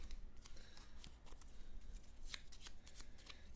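Battlestar Galactica board game cards are shuffled by hand, a close, quiet run of crisp riffling flutters and snaps repeating in quick bursts.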